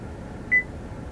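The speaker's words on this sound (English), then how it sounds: "You just press and hold the middle one until the car beeps" A single short electronic beep from a GMC Denali dashboard during an oil life reset, quiet and clean over a low background hum.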